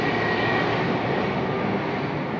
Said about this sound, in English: Do you hear the freaking plane?